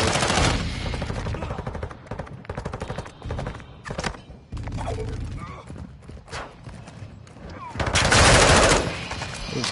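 Dense bursts of automatic and single gunfire in Call of Duty, loud and continuous across the whole stretch, swelling into a heavier blast near the end, with faint voices mixed underneath.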